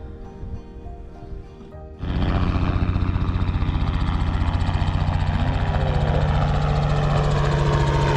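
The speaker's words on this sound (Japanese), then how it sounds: "あれ何のヘリコプターだろうね。" A shiny wine-red seaplane helicopter flies overhead on a small Okinawan island. After a quieter opening, loud rhythmic rotor thumping starts abruptly and holds steady and close.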